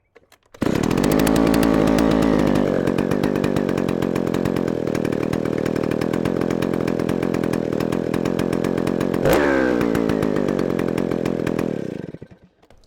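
A rare old chainsaw running after a restart following repair: a loud, close, steady high-revving engine buzz held for about eleven seconds, with a brief rev change near the end before it cuts off.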